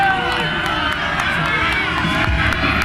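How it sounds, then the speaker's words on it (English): Loud, dense crowd noise fills a rugby league championship match between the Jacksonville Axemen and Brooklyn Kings, a sustained roar of booing from the fans that holds steady throughout. "Oh, lots of boos. Lots of booing."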